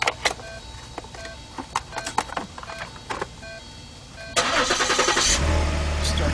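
A gasoline car engine cranks and starts partway through, then settles into a steady running rumble, preceded by beeps and clicks from the car.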